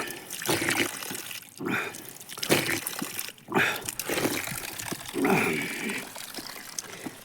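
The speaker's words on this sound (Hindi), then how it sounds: "स्रोत का पानी ज़मीन के नीचे से आ रहा है" Cold, clear spring water flows out of the ground on a Uttarakhand mountain forest hillside, a steady close trickle and splash that runs throughout, with a voice talking over parts of it.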